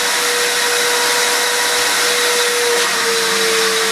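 A vacuum pulls air through a car's diesel particulate filter during cleaning, a loud, steady, continuous rushing whine with a faint high tonal hum, unbroken throughout.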